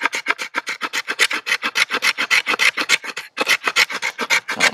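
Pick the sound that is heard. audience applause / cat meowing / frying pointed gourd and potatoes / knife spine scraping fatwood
knife spine scraping fatwood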